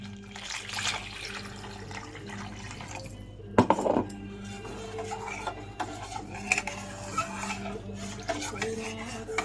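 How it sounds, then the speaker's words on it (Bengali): Water is poured into a pot of well-fried spice paste for a fish curry, a brief splashing rush near the middle over low kitchen clatter and soft stirring. "মশলাটা কষানো হয়ে গেছে, আমি এবার দিয়ে দেবো পরিমাণ মতো জল।"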